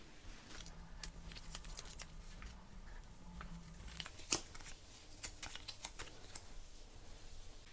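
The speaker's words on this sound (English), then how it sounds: "I insert the Wheel of Fortune, I shuffle, and I cut" Tarot cards being shuffled and cut at a reading, a quiet run of soft riffling flicks and taps close by, with no one speaking.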